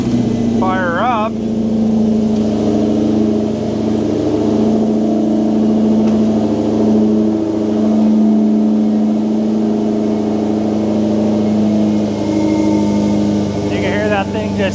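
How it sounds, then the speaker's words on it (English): A built, supercharged 426 engine idles steadily with a low, droning rumble while the supercharger draws in air, a continuous hum with faint whirring on top; a person talks over it for much of the clip. "You can actually hear the supercharger. Listen to that thing sucking."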